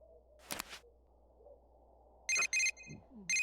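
A cell phone inbox message notification in the video game Persona 4 Golden, a short series of bright electronic tones that repeats in quick pulses after a quiet stretch with a faint soft blip.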